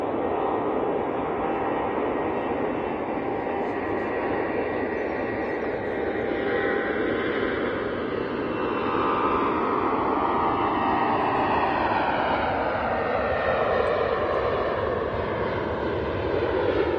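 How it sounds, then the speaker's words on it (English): Steady roar of an Etihad Boeing 777 jet engine as the plane taxis at Manchester Airport on a winter morning, continuous and fairly loud with slowly shifting pitch, no voices. "I can see the Etihad 777 on the taxi."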